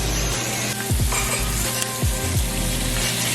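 Shrimp sizzle loudly in a pan with asparagus juice and seasoning, a steady close frying hiss broken by a few scraping stirs.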